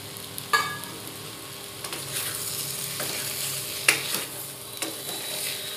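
Small fried shrimp are stirred into a pan with tomato sauce, salt and elephant foot yam, giving a steady close sizzle broken by sharp spatula scrapes and clacks at irregular intervals, with no talking.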